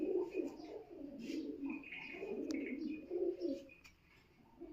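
A Pakistani highflyer pigeon coos softly in a series of low, throaty, repeated calls, close but quiet, with faint background noise and a few distant chirps.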